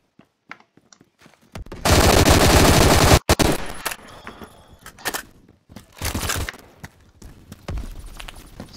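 A machine gun fires in the video game Phantom Forces, with a long sustained burst of rapid shots and later shorter bursts, loud and close, broken by clicks and gaps.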